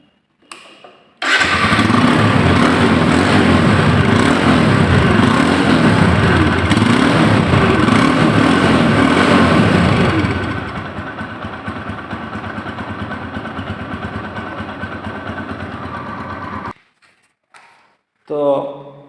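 A 2020 TVS Apache RTR 150cc motorcycle engine starts and runs loud and close at a steady idle for about fifteen seconds, the tone shifting slightly before it cuts off, followed by brief faint sounds.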